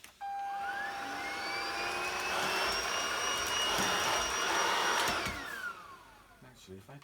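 A Hoover vacuum cleaner whirs steadily and loudly close by for about five seconds, with a rising whine at start-up, then winds down, leaving faint handling clatter at the end.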